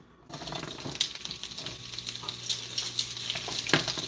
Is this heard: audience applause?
no